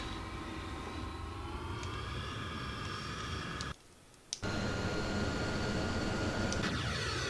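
A B-52E Stratofortress bomber's engines in the FSX flight simulator roll on takeoff with a loud, steady drone and layered whining tones. The sound drops out briefly midway, then resumes at full strength.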